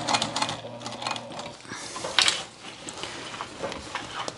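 A sewing machine stitching through layered denim of a tote bag, short bursts of rapid mechanical clatter with brief pauses, close and fairly quiet.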